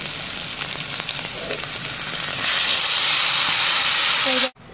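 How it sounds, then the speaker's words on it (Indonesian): Blended chili spice paste frying in a pan, a steady loud hiss and sizzle that swells midway and cuts off abruptly near the end. "Kita masukin cabe. Maksudnya bumbu-bumbu yang tadi kita blender ya."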